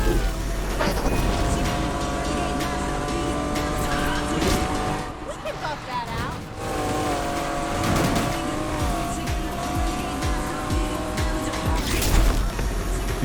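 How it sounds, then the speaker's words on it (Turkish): A race car's engine in Need for Speed Unbound roars loudly and steadily, revving up and down over constant road noise, with tire squeal and skidding during hard cornering. "Biraz motor sesini açayım değil mi?"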